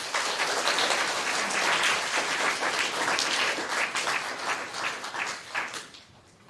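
Audience applause after an elementary school speech contest entry, a dense steady clatter of many hands clapping that holds strong for about five seconds and then thins and fades toward the end.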